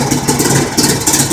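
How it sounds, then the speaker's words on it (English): Homemade generator with a built-in inverter running with no load, giving a loud, steady engine-like hum with a slight pulsing throb. "there's no load on the generator."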